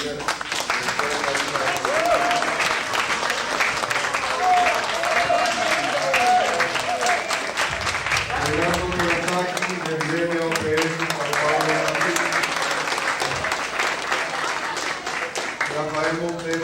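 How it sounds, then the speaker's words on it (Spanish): Sustained audience applause for the lecturers at an INTEC evidence-based medicine event, a steady wash of clapping from a crowd lasting the whole stretch, with voices talking over it throughout. "aquí sí yo voy a pedir aplausos para cada uno de ellos porque fueron magistrales todos"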